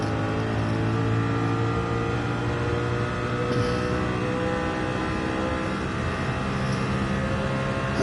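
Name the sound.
race car engine revving, from video game Gran Turismo 7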